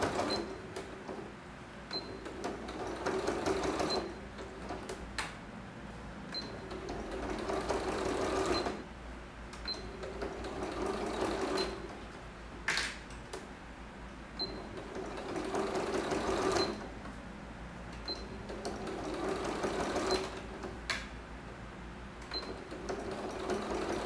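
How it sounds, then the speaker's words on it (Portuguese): A sewing machine runs a safety seam on a children's zippered pouch, close rhythmic stitching in several runs separated by short pauses and clicks, with no talk. "Eu vou fazer uma costurinha de segurança primeiro, tá? Pra depois eu costurar."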